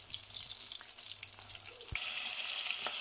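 Chitol fish kofta frying in hot oil, a steady close sizzle that swells louder partway through with a brief clatter, continuous and without speech.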